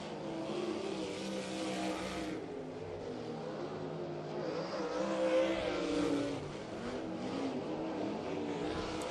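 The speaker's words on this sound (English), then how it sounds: "We're going to set them loose, and the green flag flies for Mike Farrell." A 360 sprint car at speed on a dirt oval during time trials, a steady loud engine roar that swells and fades slightly as it circles the track, with no talk.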